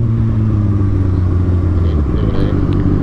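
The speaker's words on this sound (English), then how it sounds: "Dude, this bike pops like Jared's did before he got the tune." A motorcycle idling close by with a loud, steady low rumble that carries faint irregular crackles, heard alone.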